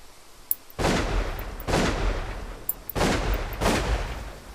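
Four loud, booming gunshots ring out at irregular intervals in a VR shooting simulator game on Meta Quest, each with a short decaying tail. Faint sharp clicks fall between the shots.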